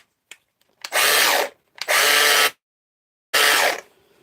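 A Milwaukee grinder, an American model under repair, runs in three loud bursts of about half a second to a second each, with gaps of silence between them.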